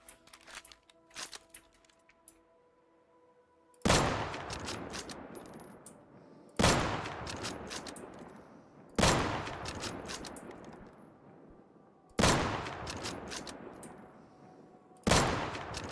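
Gunfire in the survival shooter game Deadside, four loud sharp bursts spaced a few seconds apart, each trailing off in a long echoing decay, after quiet ambient noise with faint clicks.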